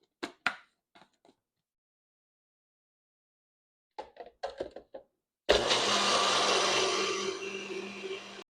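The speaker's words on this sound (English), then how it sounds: "So I'm going to put this in the blender and just blend until it's emulsified." Short knocks and clatters come first, then an electric blender kicks on and whirs steadily for about three seconds, emulsifying an oil, vinegar, lemon juice and mustard grill marinade, loud and close with a slight dip in pitch near the end.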